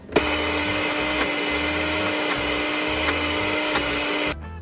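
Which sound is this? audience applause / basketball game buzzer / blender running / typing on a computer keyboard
blender running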